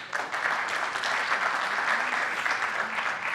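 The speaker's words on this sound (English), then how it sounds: "let's give him a round of applause" Steady, dense applause from a conference audience after a technical talk on RISC-V load/store pair instructions, sustained and fairly loud throughout with no pause.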